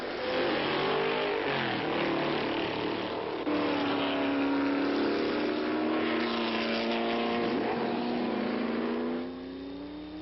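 An Allard vintage racing car engine at a gathering of historic racing automobiles in California, a steady loud drone that rises and falls in pitch as it revs, then eases off near the end.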